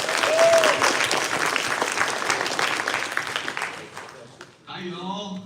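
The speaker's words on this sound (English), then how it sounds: "Please give a round of applause." A hackathon opening ceremony audience applauds loudly and steadily, with a dense, continuous clapping that thins out toward the end before a single voice begins speaking.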